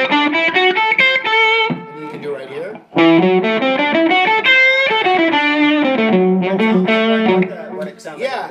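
Electric guitar with effects and distortion plays a melodic minor pentatonic lick that swaps one note for another, loud and close, with a brief spoken line over the middle of the phrase.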